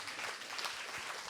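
Conference audience gives a round of applause, a dense, even wash of clapping from a large room, fairly faint and steady throughout.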